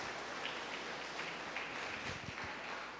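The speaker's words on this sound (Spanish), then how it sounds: "Denle un aplauso al luchador," A church congregation applauds during a sermon, a soft, steady patter of many hands heard at a distance, with faint thumps near the end.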